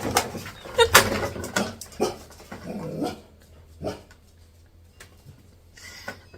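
A dog in an art studio pants and snuffles close by, with a few short bark-like huffs early on that fade into quieter breathing.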